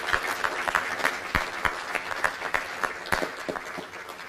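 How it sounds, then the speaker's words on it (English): Applause from a city council meeting audience, a steady patter of many hands with sharper individual claps standing out, fairly close and continuous throughout. "Let's give her and her neighbors a round of applause as they come."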